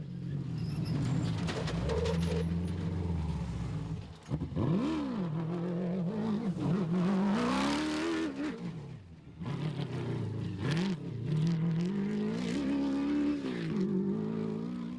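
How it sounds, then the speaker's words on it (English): Class P rally race cars in the 2013 Gold 400 drive past one after another, engines revving loudly with rising and falling pitch sweeps as each car approaches and passes close by. "The first Class P vehicle through, who else but John Thompson and Maurice Matt"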